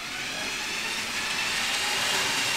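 Lego City toy trains, a 9 Volt model racing Power Functions and Powered Up trains, launch at full throttle. A steady, fairly loud whirring rumble runs throughout with no talk.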